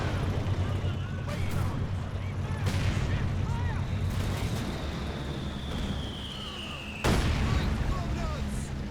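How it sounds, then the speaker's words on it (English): An HM38 120mm mortar shell lands in a video game, one sudden dull blast near the end that rises over a constant rumble of battle noise and background voices. "And you hear the shell land from the HM38, 120mm on a mortar"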